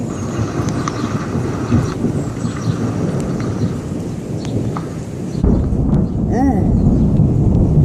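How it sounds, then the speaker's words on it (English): Thunder from a storm over Houston rolls as a long, deep rumble that swells and reverberates, loud and sustained, with a stronger boom near the end over constant background noise. "it sounded like cannons going off, just like thunder that reverbed for like,"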